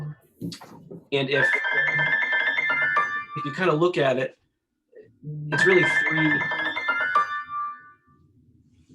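A mobile phone ringtone plays a bright repeating melodic tune during a housing committee meeting, sounding in two long bursts with a pause between, while someone speaks over the start.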